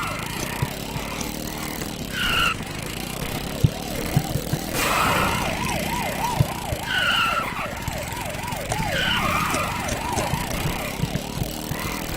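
Wailing police car siren from the video game Bully Scholarship Edition, rising and falling in a steady repeating sweep for several seconds, mixed with game background noise and occasional clicks.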